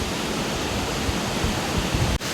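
Dhutpapeshwar waterfall in Rajapur pouring down from the mountaintop, a dense, steady roar of rushing water heard close and loud, with a brief dip near the end.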